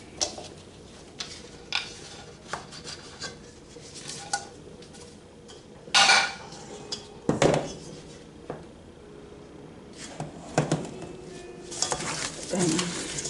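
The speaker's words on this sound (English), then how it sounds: "I'm gonna add my garlic to the pot." Garlic going into a cooking pot of stew peas and being stirred, with scattered metal spoon clinks and scrapes against the pot and a faint background hiss.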